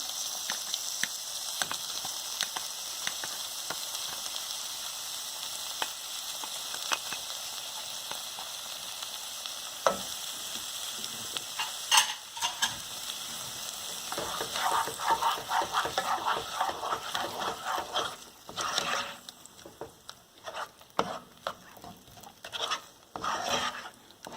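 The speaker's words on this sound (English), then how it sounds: "I'm going to add the puree in here." Puree for mutter paneer sizzling and frying in a pan on medium heat, a steady close hiss joined by intermittent scraping and stirring strokes that grow busier toward the end.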